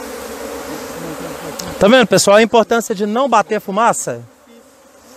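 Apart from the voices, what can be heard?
honey bees buzzing at an opened beehive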